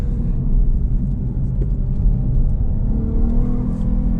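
Lexus IS 350 F Sport sedan in manual mode, its engine holding a loud, steady rumbling drone as it pulls toward a redline near 7,000 RPM, heard from inside the car.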